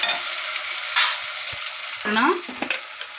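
Loud, steady sizzling of curry leaves, turmeric and chili powder frying in a hot pan, with a spoon scraping and stirring now and then, close up.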